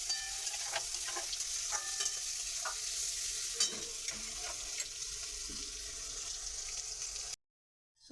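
Chicken and capsicum fry in a pan with a continuous bright sizzle, overlaid by repeated scraping and stirring strokes at a roughly regular pace; the sound cuts out abruptly near the end.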